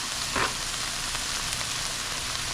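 Onions frying in a pan for a Philly cheesesteak tater tot casserole, a constant close hiss and sizzle with one brief stirring scrape near the start and no talking.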